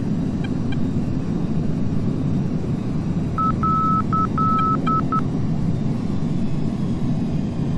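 Within a video game aircraft, a run of short, evenly pitched electronic beeps in a Morse-code-like pattern sounds in the middle of a steady engine drone, broken into several quick pulses and one or two longer tones.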